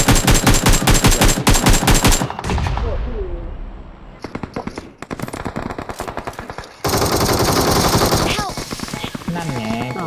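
Loud, close automatic gunfire in the PUBG video game comes in rapid sustained bursts with a brief break between volleys, and a second burst of fire takes up the final stretch.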